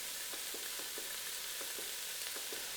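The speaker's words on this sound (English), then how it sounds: "once you see the nuts starting to brown a little bit, go ahead and mix everything together" Nuts browning in a hot pan on a stove, a steady broad sizzle with faint regular scraping taps as the pan contents are stirred together.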